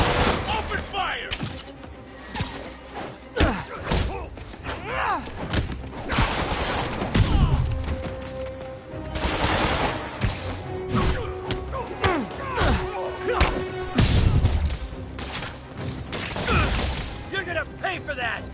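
Bursts of gunfire, thuds and shattering crashes from a Spider-Man video game, with rapid shots and impacts recurring through the scene, loud and busy, mixed with game voices.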